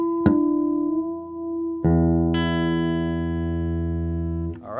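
Electric guitar being tuned through a Boss ES8 effects switching system: a plucked note rings and decays, then a second sustained chord-like pluck holds for several seconds, close and clean with no talk.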